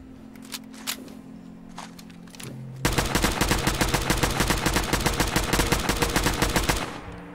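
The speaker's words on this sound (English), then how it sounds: "Put on the muzzle brake, and I'm going to go full auto" Full-auto gunfire in Fallout 4 from a rifle fitted with a muzzle brake firing junk rounds: after a few scattered shots, a rapid, loud, steady burst of rounds runs about four seconds, then stops abruptly.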